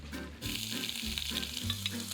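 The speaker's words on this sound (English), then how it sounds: "And I want to sear the shrimp." Shrimp searing in olive oil in a hot pan, a dense close sizzle that swells after a brief quieter start and then holds steady, with no talking.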